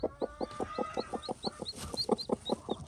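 A turkey hen clucks softly and rhythmically at close range while tending a baby chick and two ducklings, with faint high peeps from the young between her low calls.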